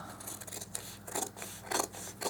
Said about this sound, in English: I'm going to take my fabric scissors, and I'm going to trim